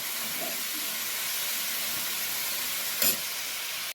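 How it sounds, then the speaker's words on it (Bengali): Carrots being stirred and fried in ghee give off a steady, close sizzling hiss that runs throughout. A brief scrape of the stirring sounds near the end. "গাজরগুলো একটু নাড়াচাড়া করতে থাকি।"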